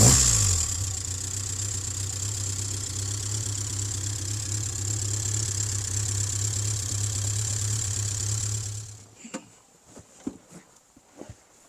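A 1950s car engine fitted with Aquaplane manifolds and twin SU carburettors runs at a steady, close idle for about nine seconds, then cuts off, leaving scattered faint knocks and clicks.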